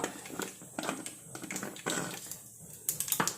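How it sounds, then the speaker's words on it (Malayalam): Mustard seeds splutter in hot oil as lunch curries get started, with loud irregular bursts of crackling and popping close by, separated by brief quieter gaps. "കടുക് വറുക്കുക"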